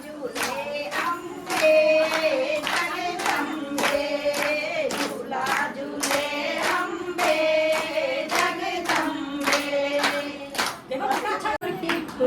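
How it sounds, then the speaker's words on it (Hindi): An audience at a Teej celebration program claps in welcome, a sustained, lively patter of many hands with voices mixed in throughout. "बहुत तालियों से स्वागत कीजिए।"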